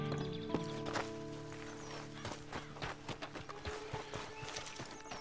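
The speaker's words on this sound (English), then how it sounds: "We got some horses." Horses in Red Dead Redemption 2 clip-clopping near a shack, a series of irregular hoof knocks over faint ambience, quiet and fairly close.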